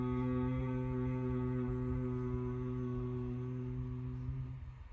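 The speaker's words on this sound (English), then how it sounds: "a pranayama or breathwork technique called Brahmari or bee breath or bumblebee breath" Bhramari bee breath in yoga practice: a long, slow exhale pushed out as a steady buzzing hum from the throat, low and soft, holding one even pitch before fading at the end.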